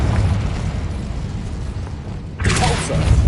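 A Confringo blasting spell in a Harry Potter video game bursts into a loud, rumbling explosion, with a sharp bright blast arriving after a low roaring buildup.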